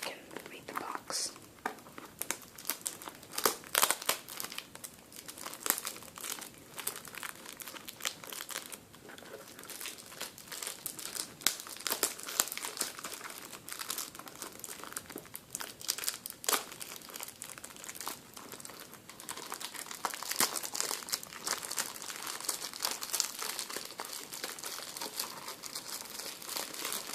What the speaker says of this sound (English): let's take off the plastic so I can read the box